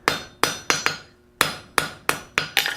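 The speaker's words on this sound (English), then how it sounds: "You'll end up putting unintended hammer blows like I just did on that" A hammer planishes a steel bar at black heat on an anvil while a double boss slot is forged, landing eight sharp, ringing blows in an uneven rhythm with a short pause partway through.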